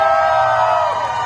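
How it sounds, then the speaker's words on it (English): Crowd cheering at a live Deadpool character show at Disney's California Adventure, a loud, sustained roar of whoops and shouts from a large audience with children's voices mixed in, fading slightly at the end. "You don't have to stop cheering. You can cheer more"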